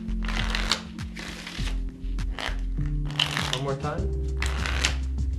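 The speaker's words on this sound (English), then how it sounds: "We'll start by shuffling the cards." A deck of playing cards being shuffled repeatedly by hand, with rhythmic riffling bursts and soft ripples close up, as a person talks between shuffles.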